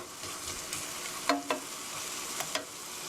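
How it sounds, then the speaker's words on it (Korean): Garlic and chicken stir-frying in a pan, a steady close sizzle with a few scraping clicks of a utensil stirring, no voices. "마늘이 노릇노릇하게 될 때까지 볶아주세요"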